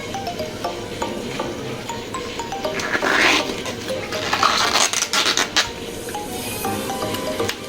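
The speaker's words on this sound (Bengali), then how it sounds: "মোচাটা এইভাবে আমি সব ছাড়িয়ে নেব।" Banana flower (mocha) bracts being peeled apart by hand, giving close, dry rustling and crisp tearing crackles that bunch up in the middle, with small clicks scattered throughout and no talking.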